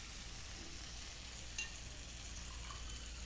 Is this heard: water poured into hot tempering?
yes